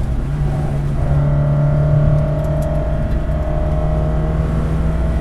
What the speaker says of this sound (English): Great sounding motor.